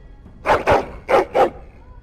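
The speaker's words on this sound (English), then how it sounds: "He woke me up with his barking." A hound barks in the video game Dragon Age: Origins, four loud, close barks in two quick pairs, standing alone against a quiet background.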